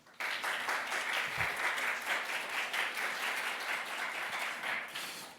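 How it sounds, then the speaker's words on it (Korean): An audience at a Korean guardianship conference special session applauds steadily for about five seconds, a dense and even clapping that starts abruptly and tapers near the end. "박수 부탁드립니다."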